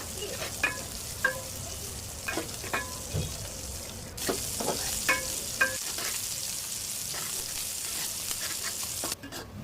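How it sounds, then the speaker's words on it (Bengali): Chopped onions fry in mustard oil for beef biryani, a steady broadband sizzle with intermittent spatula scrapes and clicks against the pan, growing louder and denser about halfway through. "পেঁয়াজগুলো এখন ভাজতে ভাজতে পেঁয়াজ বেরেস্তা"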